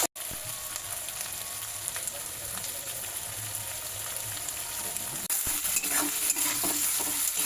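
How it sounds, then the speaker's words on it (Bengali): Chopped onions sizzle steadily in hot oil in a pan, close and continuous, with occasional stirring scrapes and a slightly brighter burst of frying near the end, no talking. "এবার পেঁয়াজগুলোকে আমি লাল লাল করে ভেজে নেব।"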